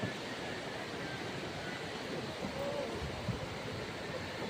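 Sea surf at a beach, a soft, steady wash of waves with faint wind, continuous and fairly quiet, with a faint voice in the background.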